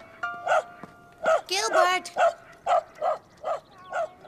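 A cartoon dog barks in a steady series of short, clear woofs, roughly one every half second, with a voice calling out briefly in the middle.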